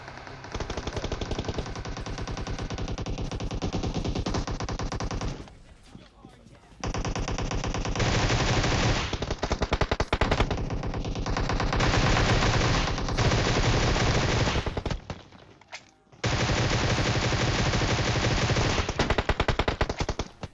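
Rapid automatic gunfire in the mobile battle royale game PUBG Mobile, loud sustained bursts of machine-gun fire with two brief pauses, close and dominant throughout.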